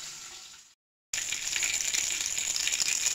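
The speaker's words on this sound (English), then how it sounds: "You can now see in here that that's sizzling." Steady, loud frying sizzle of bacon hock searing in a frying pan, with broadband hiss, briefly cutting out to silence before resuming strongly; no voices.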